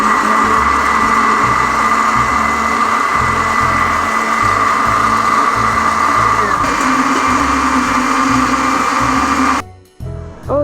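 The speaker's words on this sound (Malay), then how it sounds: "kita kisar bawang putih, bawang merah dan juga 1 mangkuk kecil cili kering" A kitchen blender grinds garlic, shallots and a small bowl of dried chilies, a loud steady motor whine with churning, rattling pulses that runs unbroken for about nine seconds, then cuts off abruptly and leaves a brief quieter tail.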